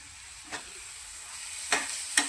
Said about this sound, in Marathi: एक 10 मिनिटं हा मसाला फ्राय करून घेऊया आपण